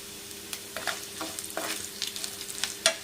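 Cumin seeds frying in a pan for a ginger jaggery chutney, a light sizzle broken by quick, uneven spatula scrapes and taps, close and fairly quiet, no speech.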